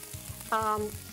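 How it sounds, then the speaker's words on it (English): Zucchini sizzles on a hot grill, a soft steady crackle with a brief tonal squeak in the middle, faint and close with no talking. "Can you hear the zucchini simmering already and sizzling?"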